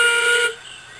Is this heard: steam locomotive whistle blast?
yes